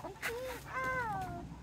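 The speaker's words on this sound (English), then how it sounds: "Oh, just a rooster." A rooster inside a backyard chicken coop gives a couple of brief, quiet clucking calls with a slightly rising and falling tone, faint against low background noise.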